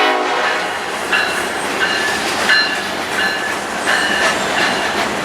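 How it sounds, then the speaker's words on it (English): Norfolk Southern P12 freight train pulling away from its stop, a loud continuous rolling rumble with repeated squealing and ringing metallic tones from the wheels and cars, steady and close. "it would not be long before this train decided to promptly depart from its stop"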